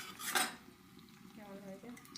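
Red bakful flower fritters fry in a pan, with a sharp scrape of utensil against metal, then soft clinks and a low sizzle at close range while a voice murmurs faintly.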